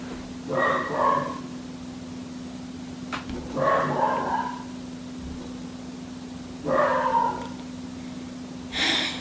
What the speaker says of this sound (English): My dogs are shaking the whole house.